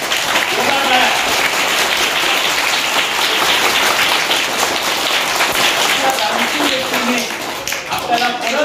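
A crowd gives sustained, loud applause at a public birthday event honouring a guardian minister, where children receive water bottles; the dense clapping fills the whole stretch, with some voices mixed in.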